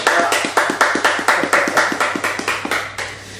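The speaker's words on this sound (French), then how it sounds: "on applaudit pour Michael Jackson" An audience at a birthday celebration claps in unison, a loud, regular rhythm of sharp hand claps at about three per second that fades slightly near the end.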